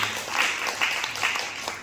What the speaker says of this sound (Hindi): एक बार जोरदार ताली हो जाए सिस्टम के लिए।